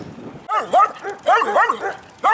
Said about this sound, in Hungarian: A kutya, ha kijössz elém,